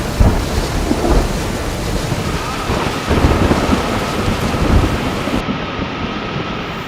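A monsoon thunderstorm brings loud, steady heavy rain with rolling thunder rumbling close by, a dense continuous roar with no pauses and no voices.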